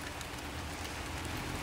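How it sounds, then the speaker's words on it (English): Steady rain falls outdoors during a riding lawnmower engine swap, a dense even hiss of drops hitting surfaces with no pauses, fairly soft and constant throughout. "it's starting to rain out here again"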